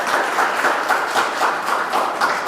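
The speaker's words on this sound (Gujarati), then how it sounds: "દીપેશભાઈ માટે જોરદાર તાળીઓ" Audience applause at a Gujarati literary gathering, a sustained wash of many hands clapping at a steady loud level with rhythmic surges, filling the room without any speech over it.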